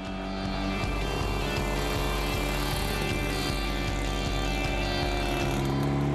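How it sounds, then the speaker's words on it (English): A DKW Super Sport motorcycle with a 600 cc two-stroke engine, a rapid, steady mechanical chatter with evenly spaced low pulses, loud and close, running continuously without speech. "The engine makes a distinctive chatter. It's actually a two-stroke motor with 600 cc's of displacement."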